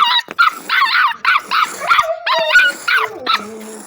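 A puppy yaps repeatedly in quick, high-pitched barks mixed with whiny yips and whimpers, loud and close, with no talking.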